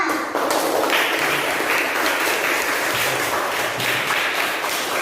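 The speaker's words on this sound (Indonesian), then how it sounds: "Kita beri tepuk tangan untuk kelompok 1 yang sudah mempresentasikan hasil diskusinya" A classroom of students applauds a group that has just finished presenting its discussion results, steady dense clapping filling the room from start to finish with no pause.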